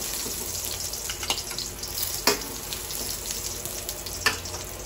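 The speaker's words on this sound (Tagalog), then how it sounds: "Ano natin gagawin ay igisa na natin yung mga sangkap" Ginger, garlic and onion sauté in a pan for chicken sinigang, giving a soft, continuous sizzle with a few sharp clicks and scrapes of stirring, fairly faint and without voices.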